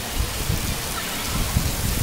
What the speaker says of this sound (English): You see the rain coming with like waves?